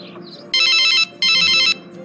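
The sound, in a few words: telephone ringing on an outgoing call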